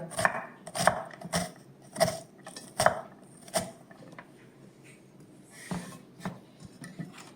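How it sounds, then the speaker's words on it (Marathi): A whole onion being cut with a knife on a board, with a string of crisp, close chopping strikes in an irregular rhythm, spaced out and then thinning toward the end, with no one speaking. "आता मी पूर्ण कांदा कापून घेते"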